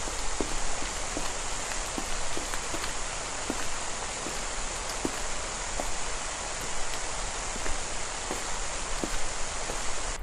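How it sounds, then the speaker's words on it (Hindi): Heavy rain pours steadily, a dense constant hiss with scattered louder drips and taps throughout. "बारिश है ना भयंकर है"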